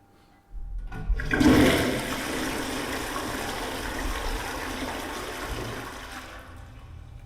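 A toilet flush starts abruptly and roars loudly, then settles into a steady rushing drain and refill that fades out after several seconds, heard alone without talk.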